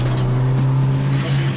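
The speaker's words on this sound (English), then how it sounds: "Here comes Neil Shaw in the Audi S1." Audi S1 rally car on a track, a loud steady engine drone close by that swells slightly as it passes, with no talking.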